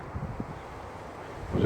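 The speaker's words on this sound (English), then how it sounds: "I apologise for the wind, it's a really windy day." Gusts of wind buffet the microphone, a low rumbling roar that swells louder toward the end.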